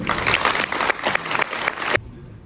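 An audience at a public political meeting claps in a brisk burst of applause for a couple of seconds, then it cuts off abruptly into quiet room tone.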